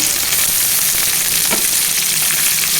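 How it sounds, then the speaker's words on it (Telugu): Potato pieces fry in a pan with green chillies, a dense, steady, fairly loud sizzle close by with faint stirring scrapes and no voices. "ఇప్పుడు ఆలు ముక్కలు వేసుకోవాలండి."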